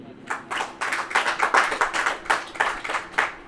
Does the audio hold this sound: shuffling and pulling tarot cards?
no